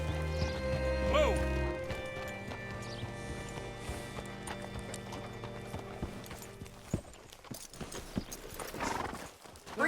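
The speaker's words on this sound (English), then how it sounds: "Hitch your horse up here." Horse hooves clip-clop in the video game Red Dead Redemption 2, with a sharp whinny near the start, then uneven footfalls over a steady game background hum, without speech.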